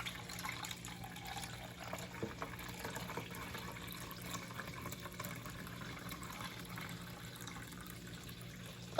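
Chicken broth poured from a can into a measuring cup in a home kitchen, a faint continuous liquid trickle and splash running steadily without pause.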